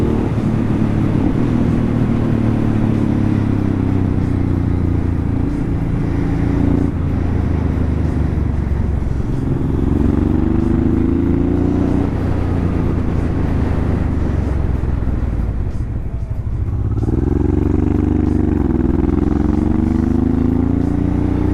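A Honda Transalp converted into a supermoto roars along on a ride, its engine droning loudly and rising in pitch with each acceleration, dipping briefly between gears under constant wind rush.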